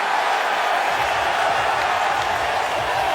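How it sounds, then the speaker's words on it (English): A dense arena crowd roars and cheers steadily at the NBA Draft as the Brooklyn Nets take Danny Wolf with the 27th pick, a loud, continuous wash of noise with no break. "That roar from the crowd"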